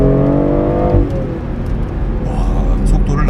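BMW M340i engine pulling hard in Sport Plus drive mode, a steady in-cabin drone that drops in pitch about a second in and carries on as a lower rumble, with a voice talking over it.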